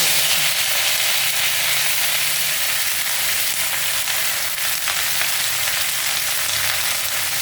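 Steady, loud sizzling of whole spices tempering in hot oil in a home kitchen, ready for cooking pumpkin leaves, a continuous crackle and hiss close to the pan with no talking.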